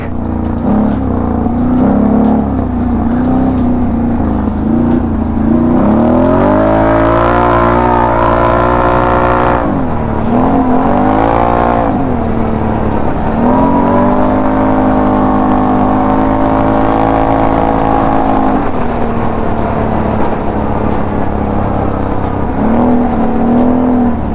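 A Can-Am fitted with a Performance Series exhaust accelerates at speed, its engine droning loud and steady with rising and falling pitch through shifts, a continuous close roar with no talk.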